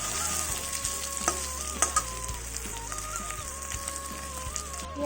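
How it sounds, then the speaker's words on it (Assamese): Onions fry in a little oil in a pan during home cooking of paneer and potatoes. A soft sizzle continues under background music, with occasional clinks and scrapes from stirring. "পিয়াজখিনি এনেদৰে ভাজি লৈছো"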